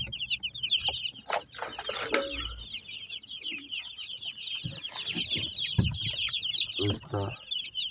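Two ducklings peep in quick, high, continuous chirps close by throughout, with someone speaking briefly underneath and some rustling and handling noise.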